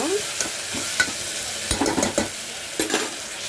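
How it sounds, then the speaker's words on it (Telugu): Cluster beans and green chickpeas fry in a pan, making a loud, close, continuous sizzle. A utensil scrapes and taps against the pan now and then as the vegetables are stirred, and no one speaks. "మటింకాయలు అలాగే పచ్చిశనగగింజలు అయితే వేసుకున్నాము. ఇవన్నీ ఒక 2 మినిట్స్ వేగాక"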